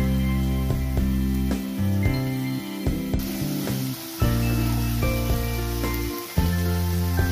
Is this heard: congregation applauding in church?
no